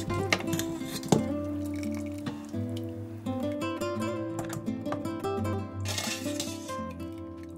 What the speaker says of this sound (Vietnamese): Và vớt toàn bộ hành, sát sùng, xương mình bỏ ra luôn.